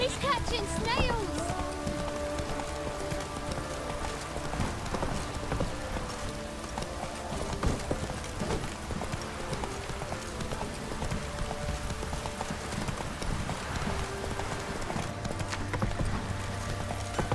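Geralt's horse Roach trots with a steady clip-clop of hooves in The Witcher 3, the footfalls running under a continuous game soundscape of ambient noise and music, with speech present in parts.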